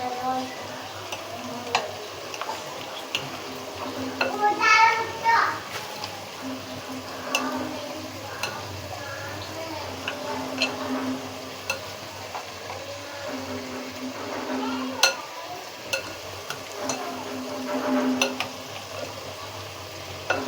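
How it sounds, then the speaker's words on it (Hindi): Masala being stirred into chicken for a Shahi degh-style chicken korma, with scraping and clinking of a spoon against the pot, irregular knocks and light sizzle-like noise close up, no talking. "इस तरह से अच्छी तरह से इसे मिक्स कर लें ताकि मसाला इसमें ऐड हो जाए।"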